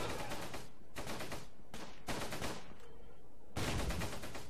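Bursts of gunfire in a World War II combat video game near Caen, several loud volleys of rapid automatic fire separated by short gaps.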